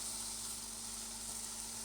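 Dried shrimp (ebi) sautéing in a pan without water gives a steady, even sizzle and hiss that carries on without a break at a moderate, close level.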